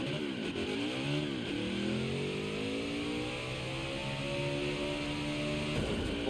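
A NASCAR race car engine in the NASCAR Heat 5 video game at New Hampshire roars steadily, its pitch sweeping up and down through gear changes and throttle lifts, loud and continuous with no speech.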